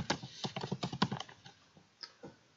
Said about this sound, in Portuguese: ao digitar a palavra cadastrado